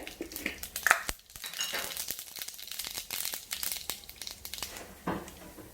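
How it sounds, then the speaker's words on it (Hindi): Asafoetida and mustard seeds crackle in hot oil, a faint, irregular scatter of small pops and crisp spatters that comes and goes. "हम हींग डालेंगे। फिर राई डालेंगे"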